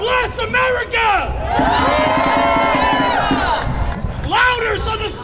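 Rally crowd at a street protest roars and cheers in a sustained swell, with a loud speaker's voice shouting over the noise before and after.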